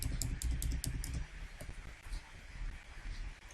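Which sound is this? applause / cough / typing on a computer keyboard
typing on a computer keyboard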